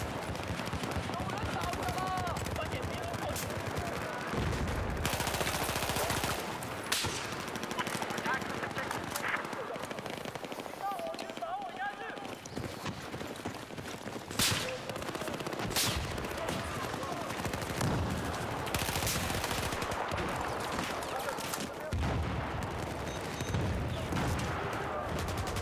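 Sniper and other gunfire crackles in Battlefield 4 multiplayer on the Guilin Peaks map, with repeated sharp shots and bursts over several seconds. They are mixed with game noise and a player talking.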